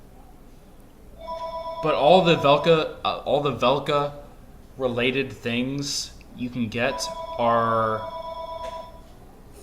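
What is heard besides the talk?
home telephone ringing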